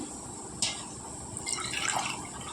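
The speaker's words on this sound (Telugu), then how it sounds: "నీళ్ళు వేసుకుందామండి ఇందులోకి." After a faint clink, water pours into a pan of fried onions and curry leaves for upma, with a rising splashing gush, close by and moderately loud.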